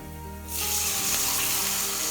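After a brief sizzle, a broad rushing pour of water into a pan of frying cashews and spices starts and continues steadily, close by, with no voices.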